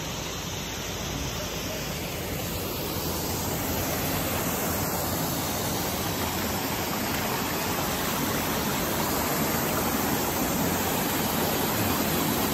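Blue Rock Falls, a waterfall at a lagoon in Rodriguez, Rizal, pours in a constant broadband roar that stays dense and unchanging throughout, heard from fairly close with no talk over it.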